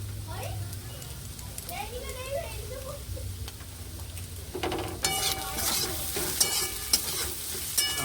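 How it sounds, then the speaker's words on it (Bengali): Salted leafy greens (saag) are stirred in a frying pan, a faint rustle giving way to loud crackling sizzle and scraping spatula strokes midway, with a voice talking over it. "পাঁচ মিনিট এভাবে নাড়াচাড়া করলেই শাকটা পুরো রেডি হয়ে যাবে"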